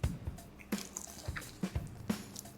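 Biting and chewing into a grilled chicken thigh cooked on a Weber kettle with a Vortex insert, its sauced skin slightly softened; several close, wet crunching bites with soft squishy chewing between them, no talking.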